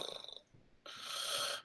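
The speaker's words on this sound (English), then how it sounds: "Seems to be something is snoring." A creature snoring as a tabletop game sound effect: a soft rasping breath with a fluttering rhythm, a short pause, then a longer hissing snore, faint and alone.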